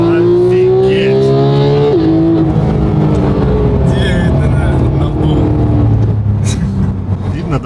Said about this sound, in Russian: Видно, да, что на ГТ-3 едем?